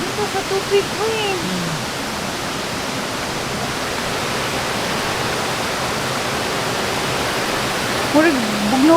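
Cold water rushing in a mountain stream near Ablayan Peak, a constant loud broadband wash close by, with faint voices talking under it at the start and end.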